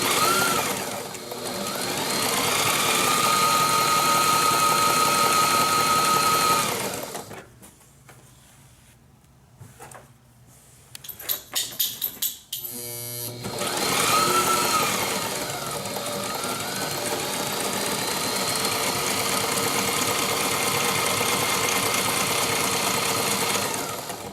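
A sewing machine runs in a long steady whir while stitching a throw pillow for a sailboat, pauses with a few clicks and rattles of fabric handling, then resumes an even, sustained buzz.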